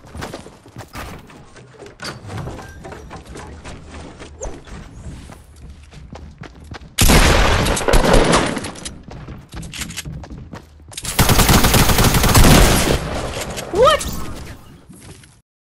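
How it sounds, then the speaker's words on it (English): Gunfire blasts at a wall in the video game Fortnite, two long, loud sustained bursts over running footsteps and thuds, with a voice talking in between. "They shot the wall out and they didn't have to reload."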